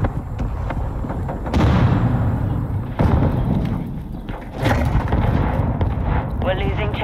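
A mortar strike in Call of Duty: Modern Warfare II: heavy booming impacts land a few times amid a steady din of battlefield gunfire, with voices heard over the noise.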